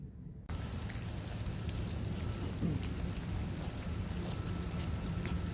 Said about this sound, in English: As you can tell, it's raining out.